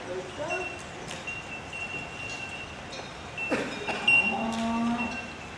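A buffalo's moo during a staged Hindi play in a theatre, a low drawn-out bellow sounding near the end over a hall murmur and faint background voices.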